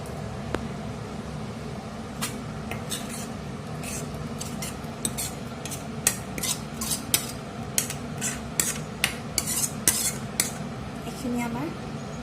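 A spoon scrapes and clinks against a metal cooking pot as ingredients for a traditional Assamese masoor dal dish are stirred together off the heat, with irregular sharp knocks over a low steady background hum.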